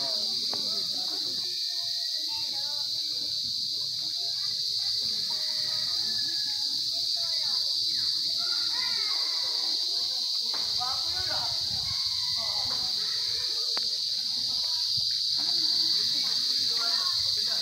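A steady, high-pitched drone of cicadas runs continuously throughout at a safari park, with faint scattered voices and background activity beneath it.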